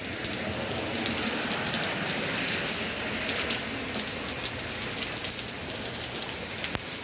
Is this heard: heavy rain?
yes